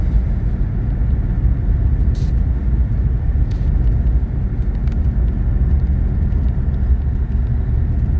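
Steady low road rumble from inside a car driving toward Lake Tahoe through a blizzard, a constant engine and tire drone with a few faint clicks and no talk.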